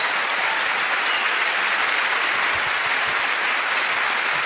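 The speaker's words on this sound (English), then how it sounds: "can we have a round of applause for everyone here at the venue?" Audience at a comedy show clapping in a dense, continuous burst of applause, loud and close, with no voices standing out.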